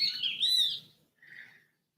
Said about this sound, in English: The sun's shining and the birds are singing.